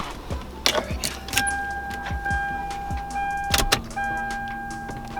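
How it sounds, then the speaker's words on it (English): Lexus LS400 electric fuel pump priming with a steady whine, close by, among clicks and short mechanical clunks from the car. "I'll let the fuel pump prime"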